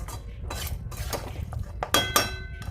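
A metal lid is lifted off a cooking pot of Bengali-style Kolkata chicken biryani with simmering chicken, giving a few close metallic clinks and clatters over a steady background hiss.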